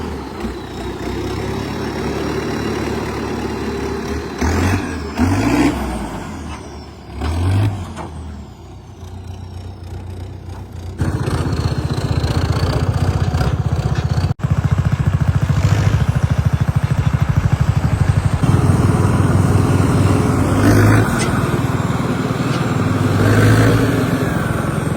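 A tractor engine runs steadily while towing a bullock cart, a low rumbling drone that grows louder and fuller partway through, with brief hiss-like bursts and revving swells, no talk.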